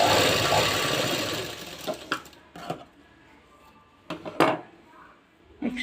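A sewing machine joins cross-cut lining pieces for a boat neck blouse in short bursts of whirring stitching, separated by pauses and cloth handling, close by with some quiet speech.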